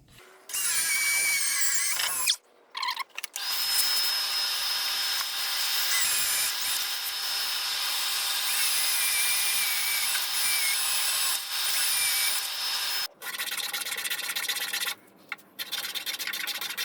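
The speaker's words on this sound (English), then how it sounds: "Now I've got to drill the matching holes in the front jaw." A power drill runs steadily at high speed, boring holes into a wooden vise jaw with a whining, grinding tone, pausing briefly a few times before continuing.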